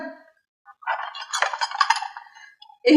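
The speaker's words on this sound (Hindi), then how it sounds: "चलो उठाओ ये सारे बर्तन।" Dishes and glassware clink together as they are gathered up in a household, a burst of bright rattling chinks close by, lasting about two seconds between brief voices.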